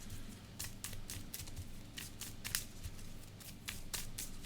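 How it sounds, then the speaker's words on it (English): Marvel Champions game cards being shuffled by hand at a table, a quiet run of short crisp riffling bursts repeated at an uneven pace, with no talking. "We'll just kind of shuffle it up"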